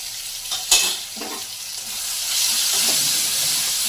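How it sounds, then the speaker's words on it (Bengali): Ginger garlic paste fries in a pan with a hissing sizzle that swells louder partway through, an early clatter of stirring near the start, close up with no voices. "এটা একটু নেড়ে নিয়ে তারপরে একটু আদা রসুন বাটা দিয়ে দেবো"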